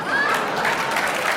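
A stand-up comedy audience breaks into a short burst of clapping, a dense wash of many hands heard close and fairly loud for just over a second.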